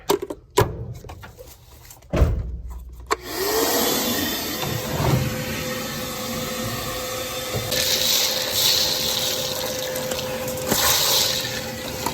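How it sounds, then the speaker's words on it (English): A shop vac runs inside a 1971 Hemi Challenger barn find, starting after a few sharp knocks and clunks, then droning loudly and steadily with rising whooshes as it sucks debris. "Shop vac action here."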